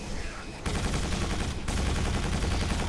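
Bursts of enemy Strogg gunfire in the Quake 4 shooter, loud and dense, with a sharp onset just over half a second in and a second surge shortly after, filling the whole stretch.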